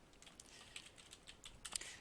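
Quiet, rapid keystrokes on a computer keyboard patter in an uneven rhythm as a spreadsheet title is entered, close and soft with no talking.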